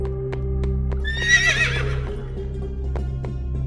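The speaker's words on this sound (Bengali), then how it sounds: "হঠাৎ ঘোড়াটা খেপে গেল।" A cartoon horse gives a loud, shrill neigh that rises and trembles for about a second, set over a steady droning musical backing with faint rhythmic clip-clop beats.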